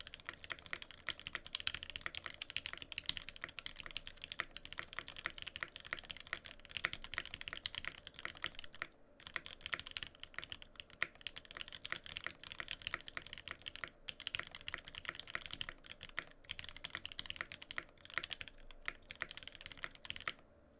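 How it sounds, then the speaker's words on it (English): Rapid, continuous typing on a gasket-mounted Smith & Rune Iron 165 mechanical keyboard fitted with Gateron Black Ink switches, close-miked: dense, even clacks and thocks with brief pauses, no talking. "Just typing on this board, this feels absolutely wonderful."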